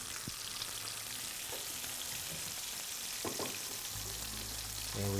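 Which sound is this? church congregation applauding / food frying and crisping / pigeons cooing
food frying and crisping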